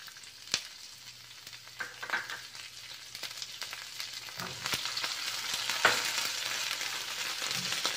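Mixed vegetables hit hot oil already crackling with mustard seeds, cumin and curry leaves for vermicelli upma, giving a steady quiet sizzle punctuated by a few sharp pops and stirring clatters.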